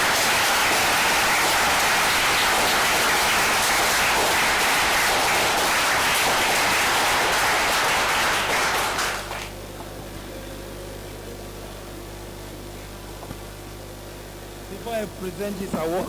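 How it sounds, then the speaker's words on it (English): Big round of applause from a crowd of farmers at a general assembly, loud dense clapping for about nine seconds before it cuts off into a quieter hall with a low hum. "A big round of applause."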